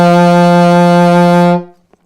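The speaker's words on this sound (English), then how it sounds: "Our low D sounds like this." A single sustained low D on an alto saxophone, loud and steady with a rich, buzzy tone, held for about a second and a half before stopping cleanly.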